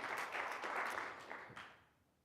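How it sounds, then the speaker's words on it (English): Audience applause at a corporate customer summit, a dense wash of clapping that holds steady before tapering off toward the end. "Please give yourself a big round of applause."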